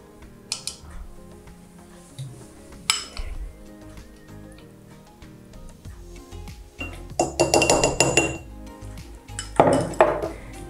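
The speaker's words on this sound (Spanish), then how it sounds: "vamos a tomar una cucharada de granos de kefir y lo vamos a poner en cada uno de los vasos." A spoon clinks and taps against drinking glasses while kefir grains are scooped in: scattered sharp chinks and clatters, some in quick bursts, close and fairly loud over a quiet background.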